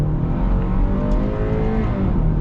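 A 2024 Hyundai Tucson XRT engine revs hard under acceleration, a loud, steady drone with a gradually rising pitch heard from inside the cabin, with no talking.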